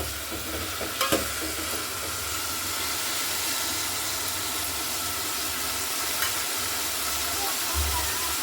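Snail curry sizzles hard in oil over high heat, a loud steady frying hiss with low rumble beneath and a couple of sharp utensil knocks early on, close and continuous.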